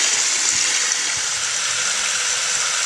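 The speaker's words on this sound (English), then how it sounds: "We can use it to suck water out of the seat wells." A pump fitted with PVC pipe sucks water out of hot tub seat wells, producing a loud, continuous gushing, hissing rush of water that stays steady throughout.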